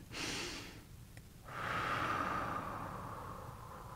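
Slow breathing during a meditation: a soft exhale, a pause, then a longer, airy breath that trails off, close and quiet with no talk.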